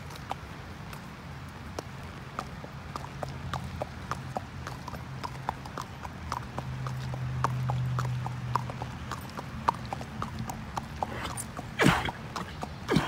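A horse clip-clops at a steady walking pace along a busy city street in Tulsa, its hoof strikes crisp and evenly spaced, with low traffic rumble beneath and a sharp clatter near the end.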